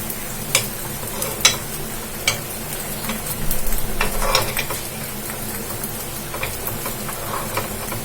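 Wheat flour kuzhi paniyaram cooking in a covered pan on a stove over a medium flame, a steady close sizzle throughout with a few sharp ticks and a brief swell of crackling in the middle.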